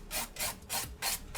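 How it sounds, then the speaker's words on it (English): Nail filing across a fingernail surface with a 120 grit file, four steady rasping strokes in an even back-and-forth rhythm, close and fairly quiet with no voices. "now go back with a 120 grit for the surface of the nail"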